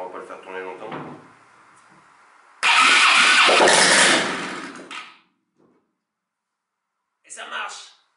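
A four-stroke engine running on LPG fuel without an exhaust fitted starts up with a loud, harsh roar that runs for about two seconds and then cuts out. Brief talk comes before it, and a short clatter follows.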